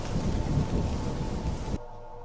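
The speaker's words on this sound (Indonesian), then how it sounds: "dikarenakan hujan semakin lebat." Heavy rain pours with thunder rumbling through a night scene in a spoken horror story, a dense, loud wash of noise that cuts off sharply near the end, leaving faint residue.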